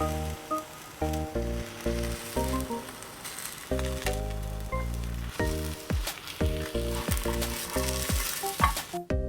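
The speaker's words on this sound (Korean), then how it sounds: "올리브유 뿌려준 다음 계란말이 만들어줄게요" Steady sizzling of egg frying in olive oil in a pan for a rolled omelette, with a soft hiss running throughout and occasional light scraping; music plays along in short repeated phrases.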